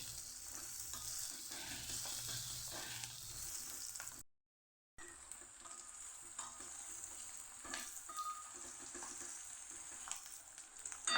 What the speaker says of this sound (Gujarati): આમાં તો ડુંગળીને આપણે સરસ સાતળી લઈશું